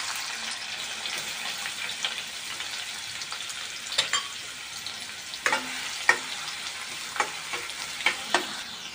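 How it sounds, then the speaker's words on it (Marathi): Finely chopped onion sizzles in hot oil in a kadhai while a crab curry is being made, a continuous crackling fry with occasional sharper pops and stirring clinks, no talking. "तेल टाकले कढईत. आता बघू तापले काय तेल तापले. हा बघा हा कांदा बारीक चिरलेला कांदा टाकते."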